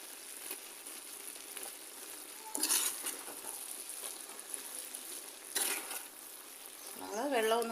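Avial vegetables are stirred into ground coconut paste in a pan with soft, close scraping and a low sizzle, broken by two louder bursts of stirring. A brief voice is heard at the end.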